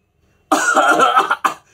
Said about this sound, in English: the cough of Bryonia is bursting cough